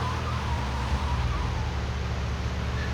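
An ambulance siren wails in GTA Vice City Definitive Edition during the paramedic mission, a wavering tone over a low rumbling vehicle engine, steady and moderately loud throughout.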